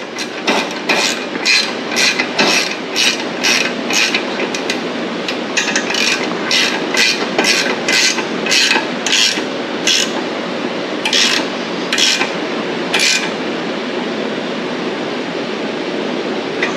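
A wrench ratcheting as it tightens a lock nut on a Rascal mini bike kit, giving a long run of quick regular metallic clicks close by that stops near the end, with no speech.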